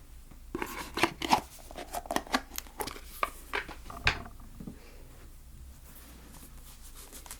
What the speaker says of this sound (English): So I'm going to just cut the deck.